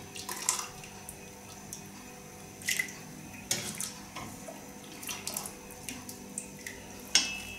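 Tapioca pearls are rinsed in cold water: soft running water with intermittent splashes and sloshing, quiet and close, plus a light clink near the end.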